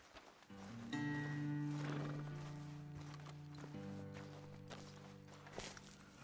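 Horses in the Red Dead Redemption 2 video game give a drawn-out whinny and snort over soft hoof movement and ambient game music, close and fairly loud for several seconds.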